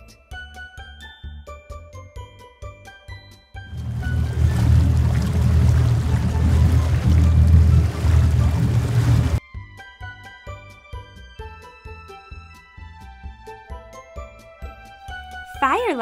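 A fire rescue hovercraft roars in a dense, loud rush for several seconds, with tinkling, jingling music playing before and after it.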